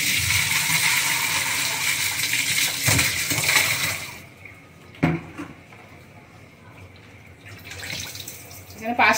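Live snakehead fish are lifted from a bucket of water, with water splashing and draining in bright bursts and sharp knocks. It is loud at first, then quieter with intermittent splashes.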